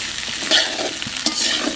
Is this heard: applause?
no